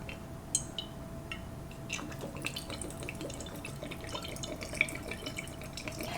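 Wray and Nephew rum is poured into a jar to fill it to the top, a quiet trickle with small drips and clinks against a low steady hum.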